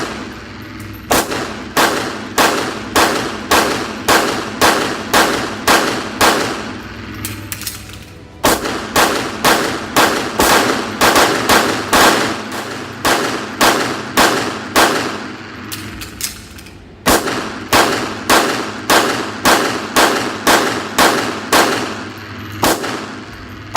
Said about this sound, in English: Let's run some more rounds through it.